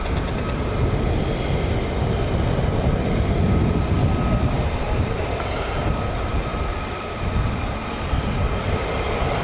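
F-35 fighter jets land at RAF Lakenheath with a loud, continuous, low jet roar that holds steady across the whole stretch, heard from a distance outdoors.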